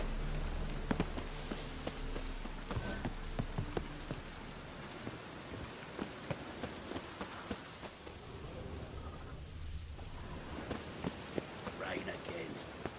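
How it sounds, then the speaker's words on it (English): Rain falls steadily in The Witcher 3, a soft continuous hiss with scattered drops, joined by faint hoof clops and a low voice now and then. "Rain again. Damn mages."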